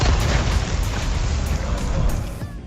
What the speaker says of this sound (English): you can blow them up even before the dynamite is lit by shooting the sticks in their hands